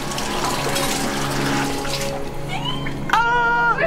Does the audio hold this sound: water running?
yes